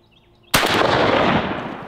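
A single loud shotgun blast while duck hunting in a swamp, close by, with a long rolling echo that decays over more than a second.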